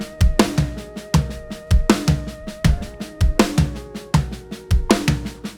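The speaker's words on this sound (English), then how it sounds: "I'll teach you a pattern that I love, which is right, left, kick, left, right, left, left." Drum kit fill repeated in a loop, sticking right, left, kick, left, right, left, left: sharp tom and snare hits with deep kick thumps, loud and close, in a steady repeating rhythm.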